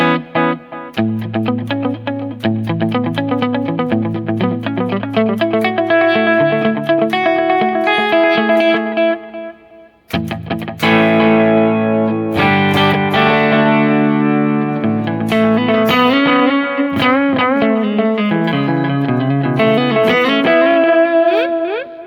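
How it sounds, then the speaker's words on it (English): An electric guitar plays a busy line drenched in a prominent dotted-eighth delay, each note trailing off in a cascade of rhythmic repeats, loud and continuous. "things you might want a very prominent dotted eighth delay on"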